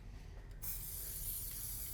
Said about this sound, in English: have a little shake, and then so I don't. yeah, that sprayer seems to work.